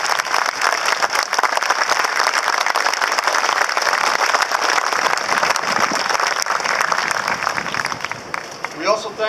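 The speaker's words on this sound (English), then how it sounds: "Please join me in a round of applause" A crowd at a US Navy ship decommissioning ceremony for USS Peleliu applauds steadily and fairly loudly, the clapping holding for most of the clip before tapering off at the end.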